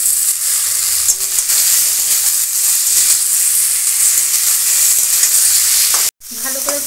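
Chopped tomato frying in a pan, a steady loud sizzle and crackle with occasional stirring clatter, ending in a brief cutoff and a fainter hiss.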